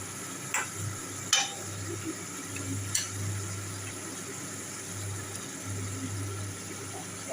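Potatoes sizzle softly in a hot pan while a katla fish curry is being cooked. A low, constant frying hiss runs throughout, broken by a few sharp clicks and scrapes of stirring.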